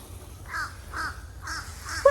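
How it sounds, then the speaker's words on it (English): A crow caws four times outdoors in a garden before sunrise, the harsh calls evenly spaced and clear above a quiet background. "Oh, that was a crow."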